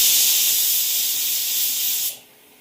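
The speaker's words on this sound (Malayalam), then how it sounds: "ഒരു വിസിൽ വന്നിട്ടുണ്ട്." A pressure cooker whistle blasts a steady, loud hiss of escaping steam for about two seconds, then cuts off abruptly, leaving a faint low hum in the kitchen.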